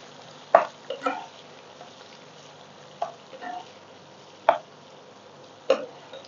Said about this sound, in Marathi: ही पण अशी खमंग परतून काढायची.